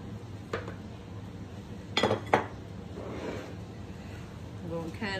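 Macaroni salad with chopped boiled eggs and pickles being mixed in a bowl: a few sharp utensil clinks against the bowl, then soft, muffled stirring over a low background hum.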